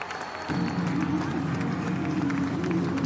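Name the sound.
cricket stadium crowd roaring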